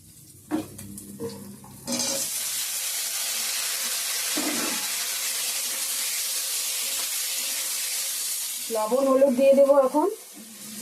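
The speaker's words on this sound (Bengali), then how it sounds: "এখানে পেঁয়াজ তেজপাতা শুকনো লঙ্কা পাঁচফোড়ন গুলো দিয়ে দেবো এখন" Onion, bay leaf, dried chilli and five-spice hit hot oil for an omelette, a loud sustained sizzle after some clatter, followed by a brief tonal scrape near the end.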